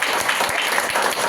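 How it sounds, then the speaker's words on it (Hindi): A seated audience claps loudly and continuously at a business gathering, a dense, close wash of many hands with uneven bursts and no pauses. "मैं जब उनका नाम लूँ तो जोरदार ताली"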